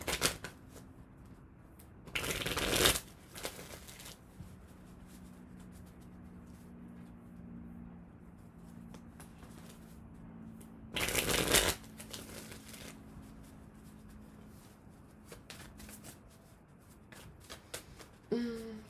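Tarot cards are shuffled in two short, crisp riffling bursts against quiet room tone, close by and soft.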